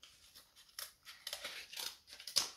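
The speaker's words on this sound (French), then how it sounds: "Du coup, je vais le couper. C'est vrai, je vais mettre le ciseau parce que ça va être beaucoup plus net." Scissors snip through cardboard in a series of short, crisp cuts, close and fairly quiet, with no talking.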